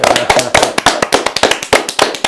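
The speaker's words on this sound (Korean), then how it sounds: "다 같이 응원의 박수 한번 보내겠습니다" Audience applause of many hands at a political broadcast in support of a party, a brisk, loud burst of crisp claps with no voices over it.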